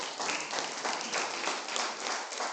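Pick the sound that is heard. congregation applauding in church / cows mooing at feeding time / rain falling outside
congregation applauding in church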